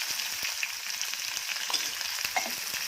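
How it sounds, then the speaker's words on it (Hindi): Chillies and onion frying in oil with garam masala for a goat brain fry, a steady close sizzle with faint stirring clicks running throughout, no voices. "अब इसमें डाल रही हूँ मिर्ची और प्याज"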